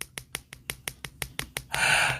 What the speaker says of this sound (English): Let me tap my own screen for a minute,